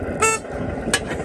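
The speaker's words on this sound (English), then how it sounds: "It has got the very annoying car horns." A 5-inch gauge class 37 model locomotive sounds two short horn blasts, a brighter toot followed by a briefer one, over a constant low background rumble.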